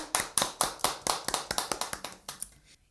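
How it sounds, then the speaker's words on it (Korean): A church congregation claps together after a prayer, a moderately loud run of about fifteen sharp, fairly even claps that gradually thins and fades out. "우리의 기도를 들으신 주님께 영광의 박수 올려드리겠습니다"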